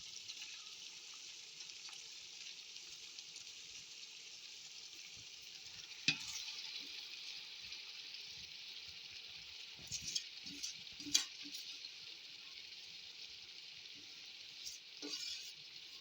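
Mixed green leafy vegetables fry with a steady, hissing sizzle, broken by a few sharp scrapes and clacks as a utensil stirs them in the pan, without talk.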